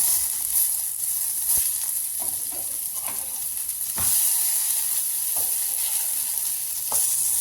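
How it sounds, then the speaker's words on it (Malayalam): Brinjal slices frying in oil for a curd brinjal curry, a steady close sizzle with occasional stirring scrapes and clicks throughout, no voices. "നമ്മൾ വഴുതനങ്ങനെ ഫ്രൈ ചെയ്തിട്ടാണ് നമ്മളത് ഉണ്ടാക്കുന്നത്."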